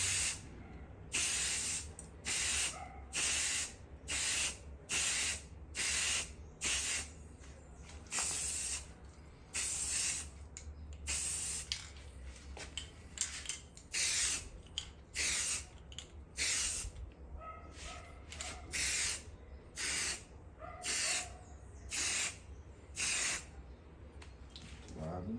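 Short, loud hissing bursts from a spray can lay a first red coat on car engine parts, repeating in an even rhythm of quick passes with brief gaps, close by.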